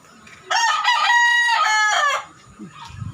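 A rooster crows once, loud and close, a long drawn-out call lasting nearly two seconds, followed by quiet.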